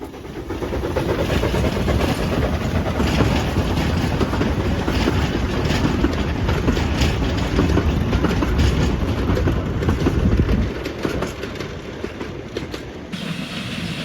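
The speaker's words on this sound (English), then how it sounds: "the Vulcan number 8 came through with a passenger train" A steam locomotive hauling a passenger train rumbles steadily past at close range on a narrow-gauge railway, a heavy continuous roar with rattling wheels that eases off near the end.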